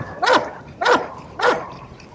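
A dog barks three times in steady succession, loud and close, each bark a short full woof with no talk over it.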